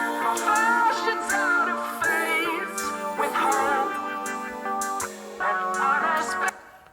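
Three bright, high resonant notes from a Phase Plant resonator patch ring out within a dense, full electronic track mix, each sustained for a couple of seconds.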